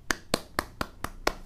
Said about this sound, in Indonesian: Abdikos beri tepuk tangan untuk kecerdasan Mas Rahmat